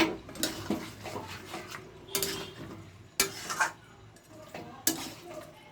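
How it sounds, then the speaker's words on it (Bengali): Mutton curry with yogurt is stirred in a pot, the spoon scraping and clinking against the metal in irregular bursts with soft sizzling underneath. "দই দিয়ে ভালো করে নাড়তে হবে"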